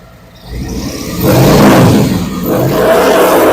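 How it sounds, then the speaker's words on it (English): A Harley Davidson motorcycle fitted with Bassani head pipes revs its engine, rising from a low idle into two loud, throaty surges heard up close. "Give you a couple of final revs."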